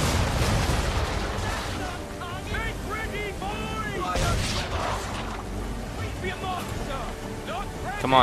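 Repeated booming blasts of naval cannon fire ring out amid crashing waves and chaotic game noise in Assassin's Creed 3, with a voice shouting over the din.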